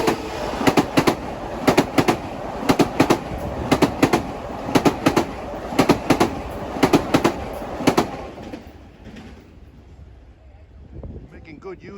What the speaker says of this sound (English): Here come the M9s west on 2.